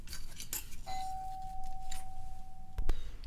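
A doorbell rings once for a package delivery, a single sustained chime tone in the background of a quiet room, with a few small clicks and rustles around it.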